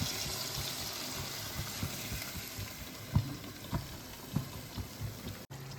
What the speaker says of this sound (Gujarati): આપણું આ શાક ચડે છે ને એમાં વઘાર એડ કરી દઈએ